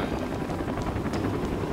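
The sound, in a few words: helicopter in video game Rainbow Six Siege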